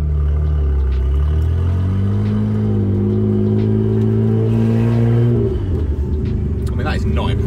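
A Nissan Skyline R32 engine idles roughly with a deep uneven rumble and pitch wavering, then sputters and falters near the end.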